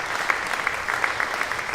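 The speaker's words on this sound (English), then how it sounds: "Accepts the applause from the audience." Audience applause at the 2019 World Shooting Para Sport Championships, during the R5 mixed 10m air rifle prone SH2 final after a shoot-off; a steady, moderately distant clapping fills the whole stretch with no talk over it.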